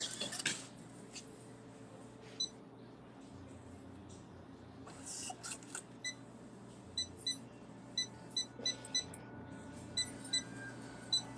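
A house phone rings faintly in the background, a series of short, regular electronic beeps that come more often toward the end over a low, steady hum.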